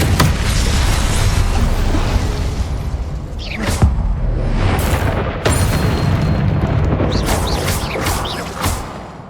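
Incendio fire spells are cast in the Hogwarts Legacy video game, giving a loud sustained roaring rumble with a few sharp bursts and whooshes over about nine seconds.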